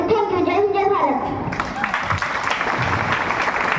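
Loud applause from a school assembly audience at an Independence Day program right after a student's speech, a dense steady wash of clapping lasting several seconds with a voice over it.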